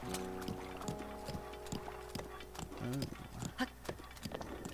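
Horses clip-clop in a Zelda-style open-world video game, light rhythmic hoof taps over a soft ambient music bed, with a few brief animal-like tonal calls midway.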